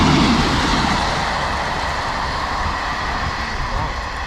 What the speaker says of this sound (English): Watch one more train go by.